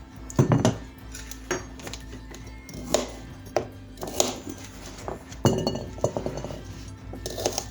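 Pieces of vegan corned beef tossed into a bowl in a home kitchen, giving a series of clinks and clatters against the dish, sharp bursts with short pauses between them, close by and moderately loud.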